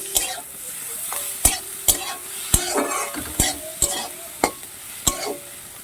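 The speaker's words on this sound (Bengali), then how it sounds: "হাফ চামচ রসুন বাটা দিচ্ছি দিয়ে ভালো করে এই একসঙ্গে ভেজে নেব" Garlic paste frying in a pan for a chili fish dish, a steady close sizzle broken by sharp, regular scrapes and taps of a spoon stirring against the metal, with no talking.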